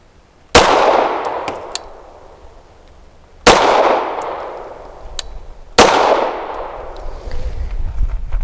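A Canik TTI Combat pistol fires PMC SFX 124-grain hollow points in three sharp, loud shots spaced a few seconds apart, each followed by a ringing decay.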